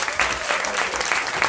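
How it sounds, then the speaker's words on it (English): An audience at a book launch breaks into applause, with loud, dense clapping from many hands filling the whole short stretch. "And big round of applause."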